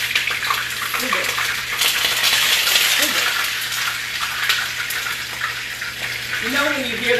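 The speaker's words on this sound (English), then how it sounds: "You know when you hear that sizzle," Fish frying in hot oil gives a steady, close, hissing sizzle that holds throughout, with brief bits of voices over it.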